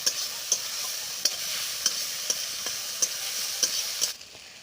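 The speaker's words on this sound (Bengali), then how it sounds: "এবার আমি এটাকে একটু নেড়ে চেড়ে কষিয়ে নেব।" Spices with garlic and ginger paste sizzle steadily in a pan while a spoon stirs them, sounding as regular close clicks and scrapes about every half second before the frying noise drops away near the end.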